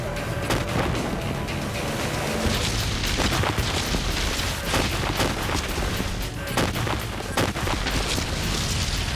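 Staged gunfire on a film set for a movie scene: a dense, continuous barrage of loud blasts and rapid shots fills the whole stretch, booming close and overlapping without pause, with no talk audible.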